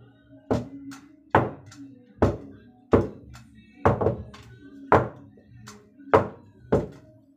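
A baking pan filled with batter is tapped against the floor eight times, each impact a loud, close, hollow thud at a steady rhythm of about one per second, with no talking.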